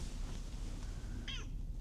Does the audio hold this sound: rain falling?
no